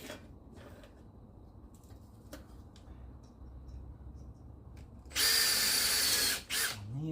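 A power drill bores a pilot hole for screws during a glass sliding door cover track installation, bursting in loud and close for about a second and a half after quiet room tone, with a brief second whir at the end.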